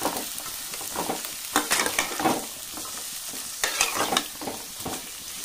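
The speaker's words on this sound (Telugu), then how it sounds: "దీన్ని బాగా ఫ్రై చేసుకున్నాం మనం క్యారెట్ ఫ్రై." Sliced carrots frying in a pan with oil, a steady sizzle broken by repeated scraping strokes of a spoon stirring them, close and fairly loud, with no talking.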